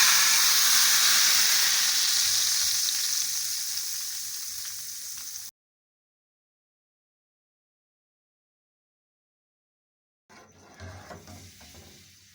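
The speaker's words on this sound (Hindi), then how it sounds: "अब हम दाल के ऊपर ये तड़का लगाएंगे।" Tadka of spices fried in oil and poured onto sour masoor dal, a loud hissing sizzle that slowly fades before cutting out, followed by a few seconds of silence and then softer crackling.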